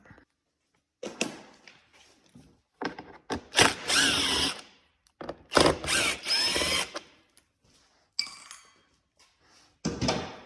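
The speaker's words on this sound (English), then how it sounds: "You're gonna first remove these two screws. Okay, number 25 Torx. Let's get them out." Power drill whirring in several short bursts as it backs out two number 25 Torx screws from the hood area of a 2021 Ski-doo 850 Turbo snowmobile, with mechanical clicks and rattles between runs, close and fairly loud.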